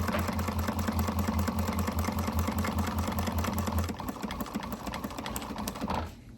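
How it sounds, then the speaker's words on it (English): A sewing machine stitches fabric toward a trim piece with a fast, steady mechanical whirr and needle chatter, slowing partway through and stopping near the end. "I'm going to sew right up to the trim piece."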